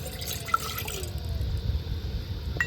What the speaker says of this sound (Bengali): ঠিক এরকমই বাটির 1 বাটি জল দিয়ে দেব।